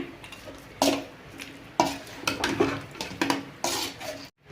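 Chicken being mixed with spice masala in a bowl for chicken fry, a close series of wet scraping and clanking strokes repeating at an uneven rhythm, with no one talking.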